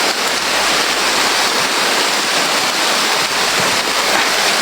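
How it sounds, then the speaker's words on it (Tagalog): Heavy rain pours down steadily and loudly, a dense, unbroken hiss with no pauses. "Lakas ng ulan tol."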